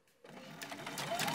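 A sewing machine runs steadily, stitching layered purse fabric about half an inch from the edge, its whirring motor building in loudness after a brief quiet start and continuing alone to the end.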